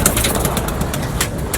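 Soft pigeon cooing and bird calls over a steady low rumble of background noise, continuous and fairly close.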